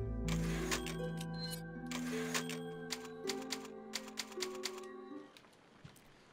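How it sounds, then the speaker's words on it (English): The typewriter save point in Resident Evil 4 clacks in a rapid run of sharp keystrikes over sustained game music, the strikes standing out clearly before the music fades and a last few taps trail off. "Luckily, the typewriter is right here."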